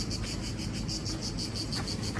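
A cicada sings in rapid, pulsing bursts in the old hilltop village of Mougins, France, its buzzing chirps repeating steadily and loud, close by, with no talking.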